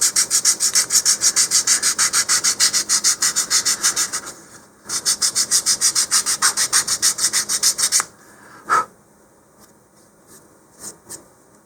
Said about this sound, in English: now this one I've got a little more sanding on this side than the other